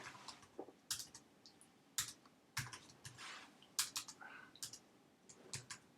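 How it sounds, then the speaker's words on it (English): Fast typing on a computer keyboard while coding, with irregular bursts of close, crisp key clicks and sharper taps separated by short pauses, in a quiet room with no talk. "Typing too fast."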